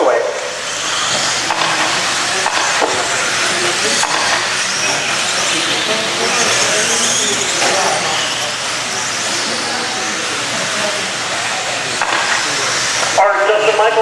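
Electric 17.5 two-wheel-drive RC buggies racing on a track make a continuous high whine and hiss throughout, with a race commentator talking over it.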